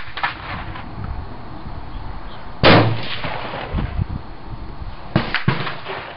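A homemade potato gun fires a supersonic potato outdoors: one sharp, loud blast with a booming tail, followed by a few fainter cracks and thumps later, with no talking.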